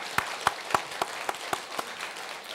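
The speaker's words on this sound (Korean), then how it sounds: "여러분 한번 박수로 환영해 주세요." Congregation applause in a church service welcoming newly evangelized members, a soft background of many hands with a few sharper claps standing out in a regular rhythm, moderately quiet and without talk.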